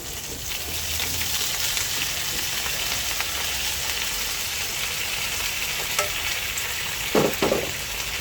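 Water spinach sizzles and fries in a pan with tofu, a loud continuous crackling hiss close to the microphone, with a couple of brief utensil scrapes near the end and no speech.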